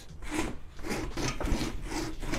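A hand saw cuts through a wooden stump in steady back-and-forth strokes, roughly one rasping stroke every half second, close and continuous with no talk.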